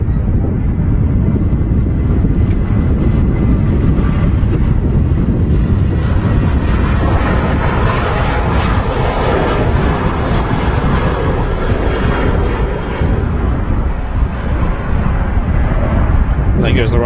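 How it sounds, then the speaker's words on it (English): A Ryanair Boeing 737 takes off at a windy Manchester Airport, its engines giving a loud, sustained roar with heavy wind buffeting throughout. "There goes the Ryanairs 73 off to Shannon."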